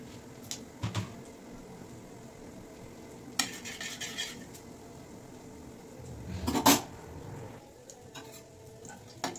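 Cumin seeds tempering in leftover fish-frying oil, giving a soft, steady sizzle with occasional stirring clatter and a brief louder crackling burst near the end, no talking.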